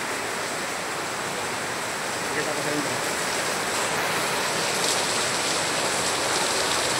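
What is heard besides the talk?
heavy rain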